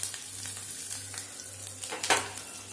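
Garlic and green chillies frying in hot oil give a steady close sizzle and crackle, with a brief louder burst of spitting near the end and no voices.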